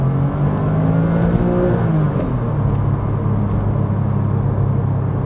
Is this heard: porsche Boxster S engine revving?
yes